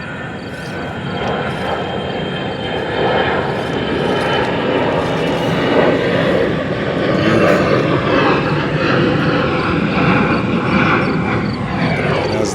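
An RC crawler car drives across a marble floor, its small motor and gears giving a steady whirring drone that holds loud and close throughout, with no voices.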